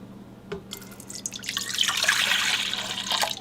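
Liquid pours into a mixing bowl on a stand mixer while making butter rolls, starting with a few drips and then building to a steady, soft splashing stream close by.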